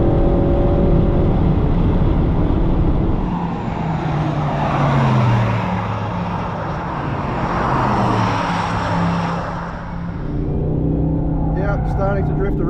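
A 2025 Aston Martin Vantage engine drones loudly on a race track as the driver works the throttle through a corner, revs rising and dipping in waves while someone talks over it.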